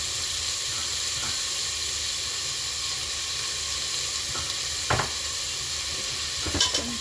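Tomatoes with salt sizzling and frying steadily in a pan, with a continuous hiss throughout and a few soft stirring scrapes and knocks near the end; no talking.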